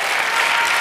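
Steady, dense applause from a church congregation during a Spanish-language sermon, loud and continuous throughout the short burst with no voices over it.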